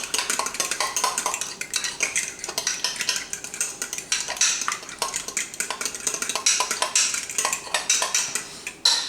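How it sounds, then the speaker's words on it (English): Seasoned egg ravioli filling mixed in a bowl: rapid, continuous clinking and scraping of a utensil against the bowl, close and busy, with no talk. "dashes of seasoning in there and mix it up again."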